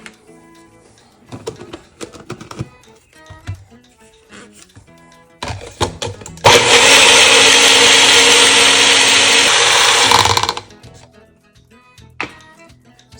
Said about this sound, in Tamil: ஸோ இப்போ நம்ம வந்து அரைக்க வேண்டியது தான்.